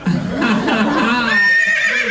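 A horse neigh sound effect played on a comedy podcast stage: one loud whinny rises and falls, its shrill quavering tail sustained over the last second, with speech or laughter mixed in near the start.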